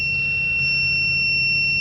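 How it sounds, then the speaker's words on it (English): Alarm on a SANY 8200 crawler crane: a continuous, piercing two-tone electronic whine held steady and loud throughout, over a low engine rumble, with no speech. "See if we can shut the alarm off."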